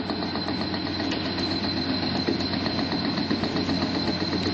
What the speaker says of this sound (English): Right now we're drilling in a rather soft rock